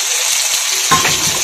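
Aubergine sautéing with Kashmiri chilli powder in a pan, a loud steady sizzle with a burst of stirring scrapes partway through.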